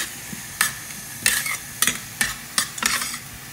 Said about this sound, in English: these onions for the dal, they are getting somewhat fried